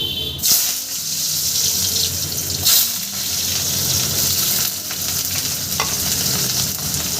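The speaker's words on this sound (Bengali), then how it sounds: "কড়াইয়ের মধ্যে আমি স্লাইস করে কাটা আলুটা আমি একটু ভেজে নেব" Sliced potatoes frying in hot mustard oil in a wok, a loud continuous sizzle with occasional stirring scrapes and splashy surges, close up and with no talking.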